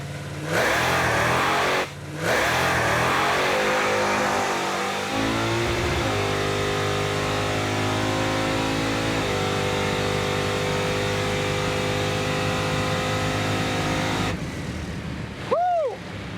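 Turbocharged Chevrolet Impala drag car revving hard on a drag strip pass, a loud, sustained engine roar climbing through the gears with a steady high-rpm drone, then a brief throttle blip at the end.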